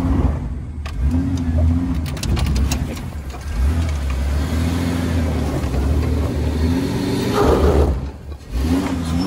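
A Jeep LJ on 37-inch tires with 5.38 gears and an OX locker in spool mode revs hard during an off-road burnout, its engine roaring loud and close in repeated surges with brief dips between pulls.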